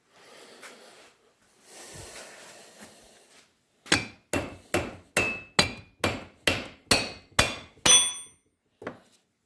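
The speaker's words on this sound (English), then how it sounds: "I'm hitting the pulley" A hammer strikes the crankshaft pulley on a Volkswagen Type 1 air-cooled engine during teardown: about ten sharp metallic blows in a steady rhythm, loud and close, with no talking.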